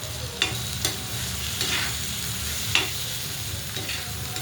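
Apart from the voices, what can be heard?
stirring ridge gourd thecha frying in a pan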